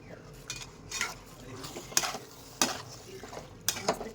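Pasta with milk being stirred in a pan, with a soft bubbling simmer under a series of sharp clinks and scrapes of a utensil against the metal.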